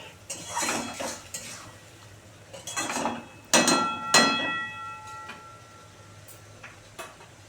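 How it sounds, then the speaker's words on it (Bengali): Prawns are stirred and fried in a pan of spiced masala for Bengali mochar ghonto, with a spoon clanking and scraping against metal in uneven bursts, close and fairly loud, with no talking. "এবার এর মধ্যে চিংড়ি মাছগুলো দিয়ে দেবো চিংড়ি মাছগুলো একসঙ্গে কষানো হয়ে যাবে দিয়ে সুন্দর করে এখানে কষাতে থাকবো"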